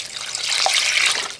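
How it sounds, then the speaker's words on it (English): Water pours from a tap or jug into a pot of bones being readied for bone broth, a short, close, bright splashing stream lasting just over a second. "I'm going to add just a little bit of water to this so that it covers the bones"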